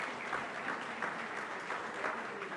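Steady audience applause filling the room at a talk or lecture, dense and continuous clapping throughout with no pauses.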